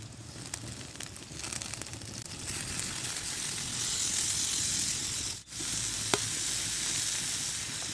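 Shrimp frying in coconut oil over sliced onions in a pan: a steady, close sizzle that builds a little and keeps up, with a brief drop and a couple of sharp pops.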